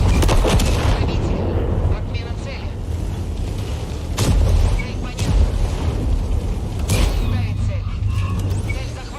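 Heavy tank cannon fire in the online tank battle game World of Tanks, with several booming shots spaced through the clip under steady game noise and a commentator's voice talking over it.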